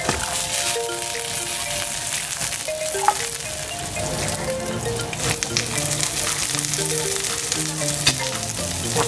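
Garlic fried chicken sizzling steadily in a hot frying pan, a loud, dense crackle lasting throughout with occasional pops and faint music-like tones underneath, close up and without speech.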